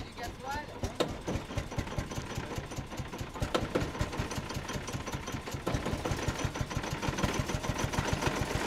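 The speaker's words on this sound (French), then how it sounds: "un démarrage du moteur du locotracteur Petola" The diesel engine of a Petola locotractor fires up and settles into a steady, rapid chugging idle close by, its pulsing beat growing slightly louder and fuller toward the end.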